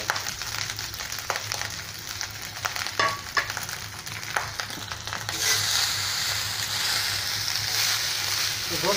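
Basmati rice and boiled noodles frying and being stirred in a wok, a steady broadband sizzle with scraping clatter throughout, growing louder and denser toward the end.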